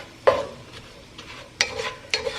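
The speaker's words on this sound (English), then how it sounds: "now we're going to cook this for about 3 minutes on a medium heat" Sausage and onion cooking in a pot on medium heat: a few distinct spoon scrapes against the bottom over a soft, low sizzle, close and otherwise quiet.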